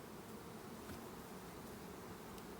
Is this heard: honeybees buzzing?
yes